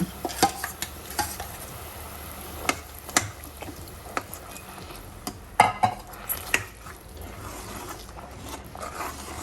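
Mashed nendran banana paste is stirred into a simmering pot, with soft scraping and irregular clicks of a spoon against the vessel over a low bubbling background.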